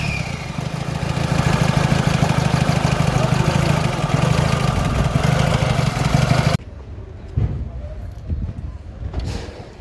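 Mr. Blue, a serviced diesel vehicle with a new fuel filter and new nozzles, idles with a loud, steady low rumble close by, then drops suddenly to quieter background noise with a few faint knocks.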